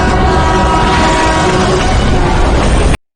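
A loud, continuous rumble of a train rolling past up close, steady roar with rattling, cutting off abruptly at the end.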